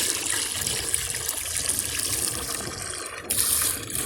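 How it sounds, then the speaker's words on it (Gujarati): Water poured from a filled container into an irrigation channel feed on a farm, a steady gushing, splashing flow close by that swells louder near the end, with no talking. "ડબલું ભરી લેવાનું ધોરિયામાં, અને પછી એને આમાં નામતું જવાનું પાણી"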